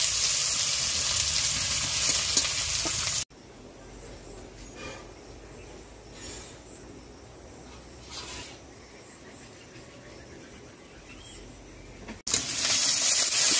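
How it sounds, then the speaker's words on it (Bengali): Onions frying lightly in oil in a pan during village-style cooking of bata fish in mustard paste, a steady soft sizzle with louder bursts at the start and end, no talking. "পেঁয়াজটা একটু হালকা ভাজা হয়ে আসবে"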